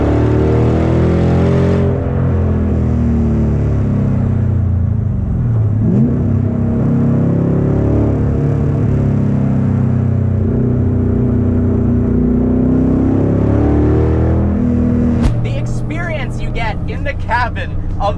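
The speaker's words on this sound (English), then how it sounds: "they've done an impeccable job of recreating the exhaust note of a 1960s race car" A Chevrolet Corvette Grand Sport with an exhaust tuned to echo a 1960s race car, a deep loud rumble that builds and revs near the listener, with someone talking over the engine throughout.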